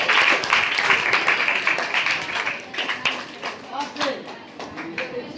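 Audience applause during a quiz contest, a dense wash of clapping that is loud at first and then thins into scattered claps, with voices mixed in.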